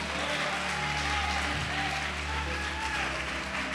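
A church congregation claps continuously in a large room, dense steady applause throughout with a low hum underneath.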